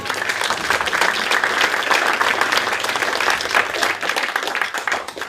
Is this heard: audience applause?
yes